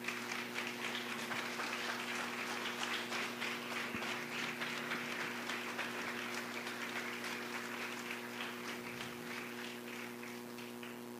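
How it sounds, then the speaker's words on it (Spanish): A church congregation applauds steadily for about eleven seconds, a dense, sustained wash of many hands clapping in a large hall, holding at an even level and easing slightly toward the end. "Denle un fuerte aplauso allá al Señor."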